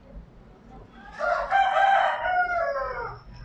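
A rooster crows once nearby, a loud drawn-out call that rises and trails off over faint background noise.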